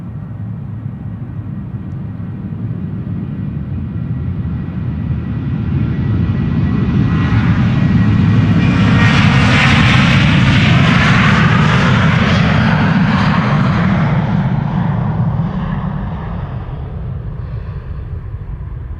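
A KLM jet on flight 1031 departs Amsterdam Schiphol, its engine roar swelling from a low rumble into a loud, close, whining pass at mid-clip, then easing back while staying strong.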